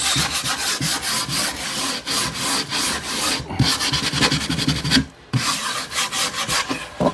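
A wooden panel for a homemade wine bottle rack is sanded smooth by hand, giving steady, close, raspy back-and-forth rubbing strokes with one brief pause near the end.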